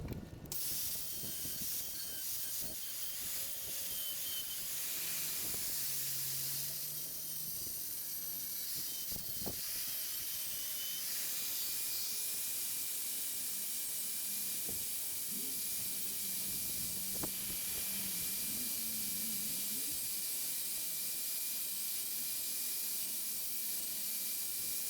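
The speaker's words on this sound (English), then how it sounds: "I'm using an angle grinder to cut the tile" An angle grinder cuts tile for a shower niche, a sustained high hissing whine with scattered clicks and knocks, moderately loud and steady throughout with no talking.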